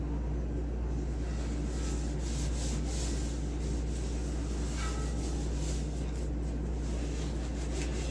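Steady rubbing of a cloth or paper towel working bacon grease over an old cast iron pan, a continuous scrubbing texture close by over a low constant hum, with no talking.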